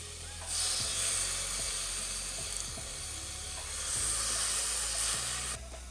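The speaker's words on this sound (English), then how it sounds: "Listen to that sizzle." Constant loud hiss of chicken frying in a hot, overcrowded pan, swelling and easing slightly, with faint crackles and pops underneath.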